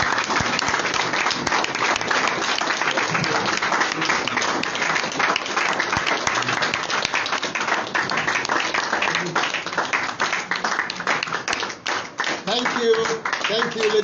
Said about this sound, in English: Rise up and clap for leader.